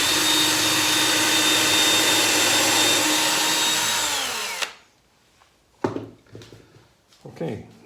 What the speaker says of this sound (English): now I can take out the bottom and drill a little bit deeper